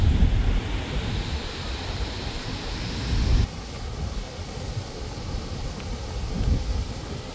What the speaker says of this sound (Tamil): அந்த உள்ளே போகிற தண்ணி இங்கே வெளியே வருது